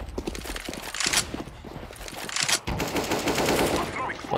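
An AK rifle in Counter-Strike: Global Offensive fires in rapid bursts, with sharp repeated gunshots and clattering in-game action, fairly close and loud throughout.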